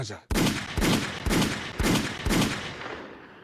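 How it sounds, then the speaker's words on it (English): Five sharp, loud bangs ring out at a steady pace about half a second apart, each leaving a long echoing tail. "Gunshots."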